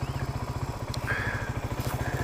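A Suzuki DR250S single-cylinder motorcycle engine warming up, a close, rapid, even thumping idle that stays steady throughout, with faint background sounds above it.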